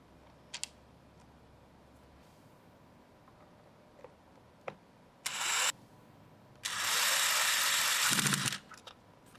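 Power screwdriver driving screws into the brush cover of a carpet extractor, two short bursts of close motor whine among scattered clicks and handling taps.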